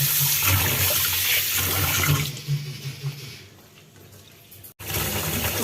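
Soaked idli ingredients, fenugreek and cumin among them, are rinsed in running water. A steady flowing, splashing wash runs for about two seconds, then eases into quieter sloshing and a brief gap before the water flow returns.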